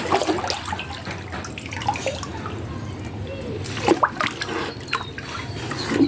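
Water being drained out of a backyard fish tank, a continuous running, splashing flow with scattered drips and sharper splashes, fairly close and steady throughout.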